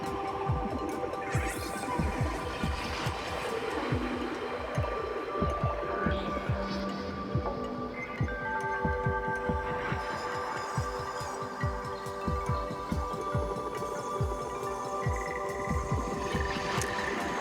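A self-made electronic intro track plays continuously, with steady sustained synth tones over a busy, rhythmic drum pattern and a filter that opens and closes partway, all at an even, moderate level with no talking.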